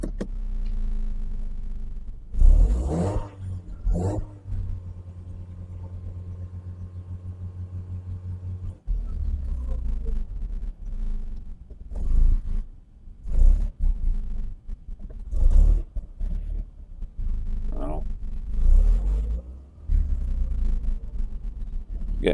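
A 1997 Mercedes C-Class that has sat unused for years cranks and coughs, with rough bursts of engine noise and a few sharp catches amid low rumbling, loud and close.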